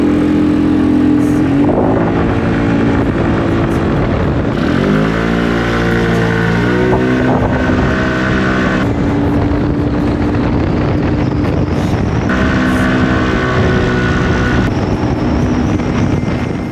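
A Peugeot Django Cafe Racer scooter with a liquid-cooled four-valve engine, ridden with a steady loud engine drone whose pitch rises and falls as it accelerates and eases off. Strong wind rush rides along with it throughout.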